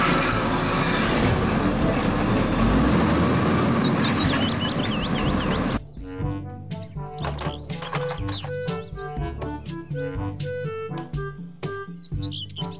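A toy garbage truck gives off a dense, loud mechanical roar for about six seconds, then stops and leaves sparse, chirpy electronic toy sound effects that carry on to the end.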